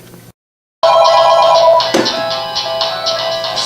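A telephone bell rings in repeated bursts after a short silent gap, loud and close, with a sharp knock partway through.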